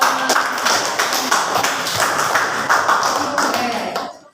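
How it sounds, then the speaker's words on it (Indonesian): Classroom audience clapping hands together in a steady, continuous round of applause, fairly close and dense, fading out at the end. "Yuk, kasih aplaus."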